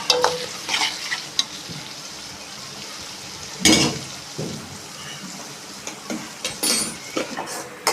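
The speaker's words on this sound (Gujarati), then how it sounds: "ડુંગળીને આપણે તેલમાં સેલો ફ્રાય કરી લઈશું" Finely chopped onion shallow-frying in oil in a pan for Kathiyawadi dahi tikhari, a steady close sizzle with intermittent scraping stirs and a few louder utensil knocks, no talking.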